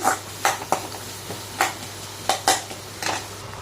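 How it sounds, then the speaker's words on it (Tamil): Onions and tomatoes being sautéed in a pan for idli upma, with intermittent metallic scrapes and clinks of a spatula stirring against the pan every half second or so, close and fairly quiet. "தக்காளி நல்லா வதங்கட்டும்"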